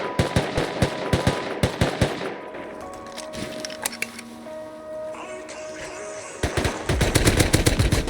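Rapid bursts of automatic gunfire in the video game Rust crackle loudly, pause into a quieter stretch with electronic tones, then resume in dense, heavy volleys near the end.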